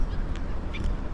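Birds calling faintly at low tide in the Tubli area of Bahrain, over a steady low rumble of wind or water, a couple of brief honking calls in the distance.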